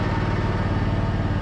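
A riding lawn mower engine drones at a steady, even pitch while mowing, close and fairly loud, with a slightly pulsing rumble and no talking.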